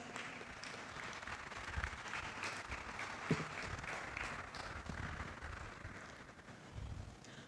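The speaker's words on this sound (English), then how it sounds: "May we have a huge round of applause." An audience at the Inter-Martiniere school debate meet applauds a judge being welcomed, a faint, steady wash of clapping that fills the whole stretch.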